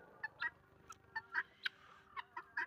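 Guinea fowl on a farm give alarm calls: a series of about ten sharp, chattering squawks in an uneven rhythm. They sound fairly faint and somewhat distant against a quiet background.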